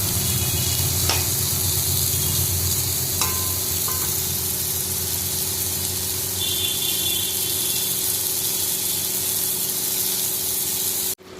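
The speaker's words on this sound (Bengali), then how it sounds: "দেখো ঝোলটা ফুটে গেছে এখন মাছগুলো দিয়ে দেবো" Bhola fish curry gravy with spices boiling in a pan, a steady close bubbling hiss and sizzle that carries on throughout with a few faint clinks, cut off abruptly at the end.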